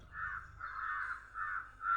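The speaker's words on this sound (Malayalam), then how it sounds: "കാക്ക ഇപ്പുറത്തെ മരത്തിൽ ഇങ്ങറ്റത്തെ ചില്ലകളിലിരിക്കുന്നു." A crow perched in a tree caws several times in close succession, harsh and fairly close, with no talk around it.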